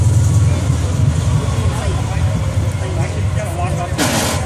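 An M4 Sherman tank with a flathead V8 engine rumbles loudly and steadily nearby as it starts to move off, with people talking over the engine noise.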